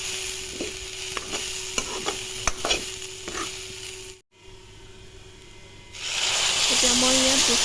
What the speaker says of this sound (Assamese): এতিয়া এইখিনি ঢাকনাখন আঁতৰাই মই আকৌ এবাৰ ভালকৈ লৰাই দিছোঁ।